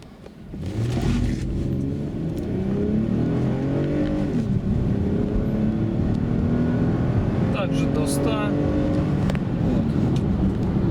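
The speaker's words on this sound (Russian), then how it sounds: "это был э, разгон на бензине" Toyota Highlander 2013 with a 3.5 V6 running on petrol accelerates, a steady close engine drone with rising harmonics that climb through gear changes for about ten seconds, heard from inside the car.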